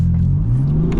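A BMW M4 engine revs hard as the driver floors it on a rainy day, a loud close roar rising steadily in pitch over about a second.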